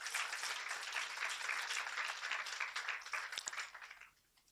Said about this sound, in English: Again, let's give them a warm welcome and round of applause.